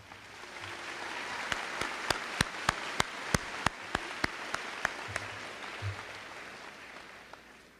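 An audience at a high school graduation ceremony claps in a broad, soft wash of applause. Sharp, evenly spaced claps from someone nearby stand out against it, and the applause fades after about eight seconds.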